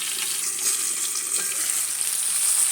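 Capsicum fries in a pan with a steady, close, hissing sizzle that runs evenly throughout, with no talking.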